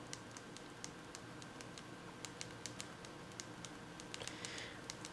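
Quick clicky presses on the hardware keyboard of an LG Fathom phone, a steady run of small sharp taps at close range over a faint background hiss.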